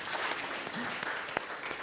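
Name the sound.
congregation applause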